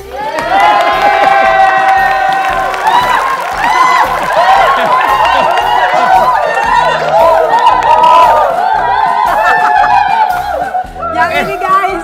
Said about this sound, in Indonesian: Kalau misalkan tepuk tangan yang paling meriah, yang ini berapa tepuk tangannya guys?